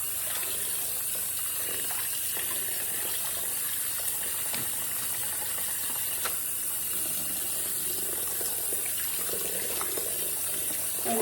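Tap water runs steadily into a sink while Swiss chard is rinsed, a constant close gushing with faint handling knocks and splashes, and no voices.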